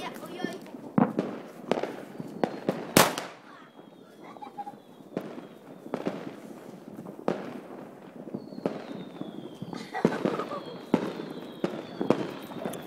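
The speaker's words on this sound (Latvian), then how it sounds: "Pucajte petarde!" Firecrackers bang through a New Year's Eve celebration, a string of sharp cracks with one very loud close blast and others scattered nearer and farther, mixed with people talking and shouting in the background.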